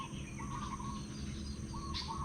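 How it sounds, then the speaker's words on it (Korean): Birds chirp and sing in short repeated phrases in the morning in the Philippines, faint and somewhat distant, over a soft steady background hum. "언제나 이렇게 아침에 아름다운 새의 소리를 들으며 하루를 시작하곤 합니다"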